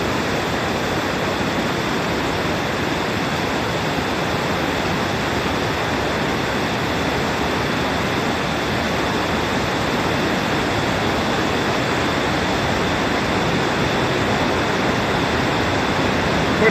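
Steady, dense rush of a waterfall pouring inside the Akiyoshido limestone cave, a loud, unbroken broadband roar that holds constant throughout with no voices over it.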